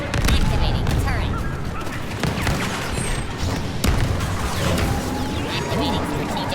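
Droid-army turret in a Star Wars Battlefront II battle against clones, firing in dense continuous bursts amid explosions, mechanical clatter and distant gunfire, with robotic voices calling out over the loud fight.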